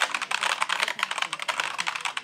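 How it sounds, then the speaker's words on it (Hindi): Rapid, steady typing clatters on a half-size ASUS gaming keyboard with a white theme, keys striking close and loud in a dense continuous rhythm. "ठीक है देखिए कीबोर्ड है"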